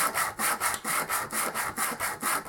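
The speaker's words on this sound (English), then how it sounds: "So I've got to now spend lots of time with some sandpaper" Sandpaper rubbed back and forth on the bottom of a small part being prepared for soldering, a brisk, regular scratching rhythm of about nine strokes, close and steady with no talk.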